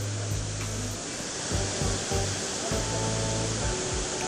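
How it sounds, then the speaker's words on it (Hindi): Manthoka waterfall near Skardu roars as a steady, close rush of falling water, a dense unbroken wash that carries through the whole stretch with no voices. "ये है मंटोका वाटरफॉल, वो टॉप से आ रही है"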